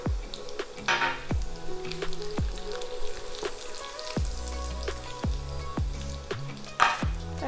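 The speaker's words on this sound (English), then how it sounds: "I'm adding cumin seeds and red chillies." Cumin seeds and red chillies hit hot oil with browned onions, giving a steady sizzle and frying crackle with repeated soft stirring knocks against the pan.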